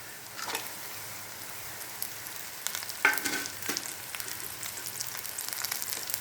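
Carrot, beans and other vegetables fry for egg masala podimas, a faint steady sizzle broken by a few sharper stirring clatters.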